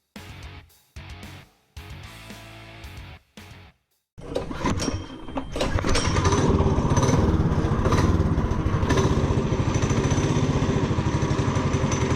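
A clapped-out doodlebug minibike with its governor bypassed starts up after fresh welding, its small engine catching after a few sputtering bursts and then running loud and steady, a busy raw rattle filling the rest.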